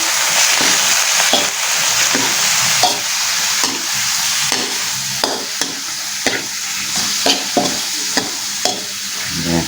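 Eel pieces stir-fried with spices and a splash of water in a pan for a rustic Thai eel curry, a steady close sizzle broken by repeated scraping stirs of the spatula, with no talking.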